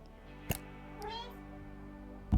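A short cat meow rises briefly over a low steady hum in the video game Lost Records, soft and close, with a few clicks around it.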